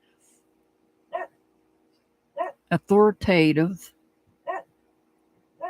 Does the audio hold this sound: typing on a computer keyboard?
no